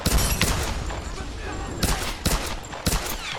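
Bursts of gunfire from the Tomb Raider Definitive Edition video game on Xbox One, loud shots cracking out at irregular intervals over a dense, constant game soundscape.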